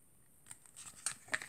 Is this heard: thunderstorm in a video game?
no